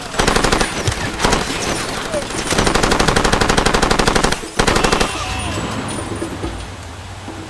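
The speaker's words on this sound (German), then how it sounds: "Wo schießen die da?" Rapid machine-gun bursts from the game Far Cry 2 rattle loudly in long, dense strings with a short break, then fade to a low rumble near the end.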